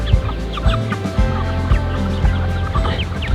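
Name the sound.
Icelandic chickens clucking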